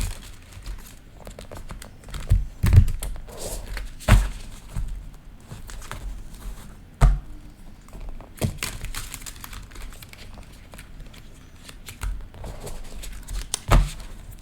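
A deck of oracle cards is shuffled by hand in a quiet room, giving soft papery riffles and sharp slapping snaps that come in irregular bursts between quieter stretches.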